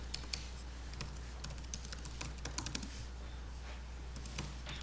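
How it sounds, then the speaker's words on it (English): Fingers type on a computer keyboard at a school committee meeting, giving a quick, irregular run of light, close clicks over a steady low room hum, with no voices. "Can you guys see what I'm typing?"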